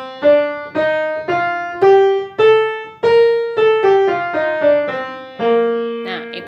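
A piano plays a major scale as a run of about eleven distinct notes at a steady, even pace, each struck tone ringing and decaying before the next, close and clear with no talking.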